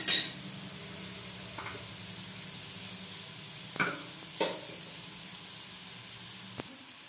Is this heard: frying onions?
yes